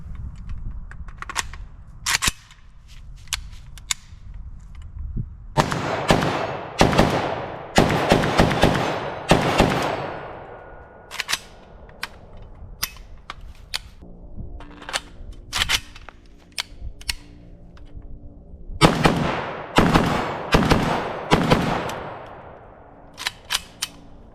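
A PSA AK-105 rifle fitted with a Dead Air Wolverine suppressor fires in repeated bursts and single shots, muffled cracks with mechanical clatter, separated by brief pauses and a low background hum.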